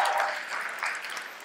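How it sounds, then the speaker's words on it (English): Applause from a comedy club audience at a stand-up show held in a church, a dense steady wash of clapping that swells slightly and then tapers, with no talking over it. "I'm glad other people applauded"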